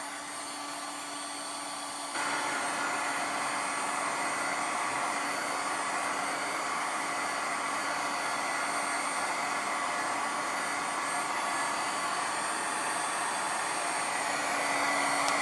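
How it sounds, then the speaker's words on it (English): A Wagner two-speed heat gun running steadily in a craft room: a constant loud blowing hiss with a faint motor whine that steps up in level early on, then holds without pause. "I have a Wagner heat gun"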